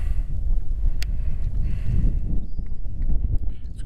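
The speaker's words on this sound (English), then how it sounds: "It's gonna be harder to cast in this wind" Gusty wind buffets the microphone on a lake during a fishing trip, a steady low rumble with a faint, brief tonal squeak partway through, heard alone without speech.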